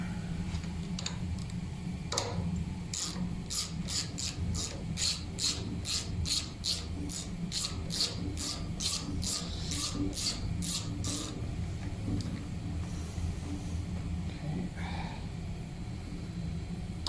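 A ratchet working a tight bolt on a worn-out air compressor, a quiet run of quick, evenly spaced clicks lasting several seconds over low background noise.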